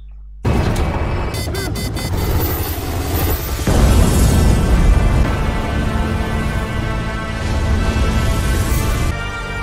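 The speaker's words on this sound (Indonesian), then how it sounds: "Bom di dalam kereta itu meledak dengan sangat dahsyatnya" A sudden loud boom from a bomb blast inside a train in a film, followed by a sustained, roaring rumble with crashing debris and a second surge partway through.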